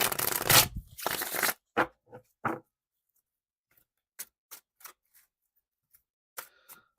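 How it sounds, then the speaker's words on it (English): Tarot cards are shuffled in a couple of quick riffling bursts, followed by scattered soft taps and flicks as the deck is handled and squared, with quiet gaps between. "Arwen, we're shuffling up for you right now."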